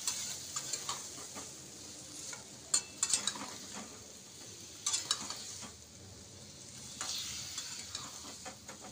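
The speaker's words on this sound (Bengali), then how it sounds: "সুন্দর করে নাড়িয়ে চাড়িয়ে মশলাটাকে কষিয়ে নেব।" Spice masala being stirred and sautéed in a pan with a little water as potatoes fry alongside, giving a steady close sizzle with scraping stir strokes and a few sharp utensil clinks, no talk.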